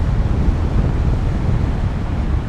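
A strong storm wind of about 20–25 metres per second gusts on the Atlantic coast. It makes a loud, constant, roaring rumble that buffets the microphone, with no voices.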